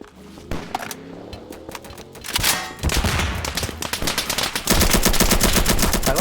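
Automatic gunfire rings out in a first-person shooter as enemies in towers are targeted. Rapid, loud bursts start sparse, then swell into dense, continuous firing.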